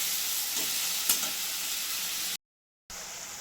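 Tomato, ginger and green chilli paste fries in a hot pan for a vegetarian potato curry, giving a steady loud sizzle with a few stirring scrapes and a short break of silence near the end.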